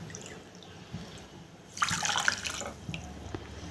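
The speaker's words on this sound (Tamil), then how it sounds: "அதே மாதிரி 1 கப்பு போல் தண்ணி சேர்த்துக்கலாம்." About a cup of water poured into a pan with 100 grams of sugar for halwa syrup: a brief splashing pour bursts in midway after quiet kitchen background, then settles into faint drips.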